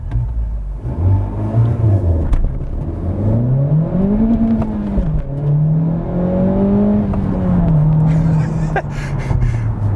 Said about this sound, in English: So I'm going to floor the accelerator without touching the steering wheel